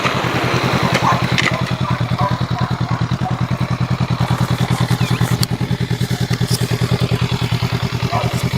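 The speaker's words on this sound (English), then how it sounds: "Just finished a ride on the Honda Rebel 500." A Honda Rebel 500 motorcycle engine runs steadily at close range, its even, rapid low firing pulses holding a constant rhythm with little change in pace, while faint rustling and a few small clicks sit in the background.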